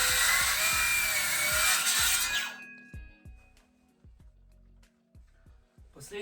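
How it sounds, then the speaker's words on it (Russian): A circular saw cuts a line through flooring, a loud, harsh whine lasting about two seconds before it stops and winds down, followed by quieter knocks and handling noises. "Линию я расчертил, сейчас буду пилить циркулярной пилой."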